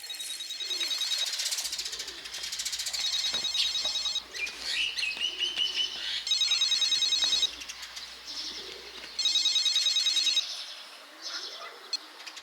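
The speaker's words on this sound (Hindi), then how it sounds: "धत तेरी की, ये फोन कितना बज रहा है?" A telephone rings insistently in a Hindi-dubbed action film scene, sounding as loud, bright electronic trills in repeated bursts of a second or more, separated by short pauses, over a background of chirping birds and faint ambient noise.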